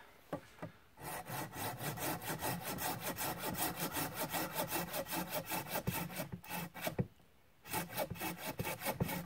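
A WilFiks camping saw cuts through a small pruning-size branch in steady back-and-forth strokes, loud and close, with brief pauses near the start and toward the end.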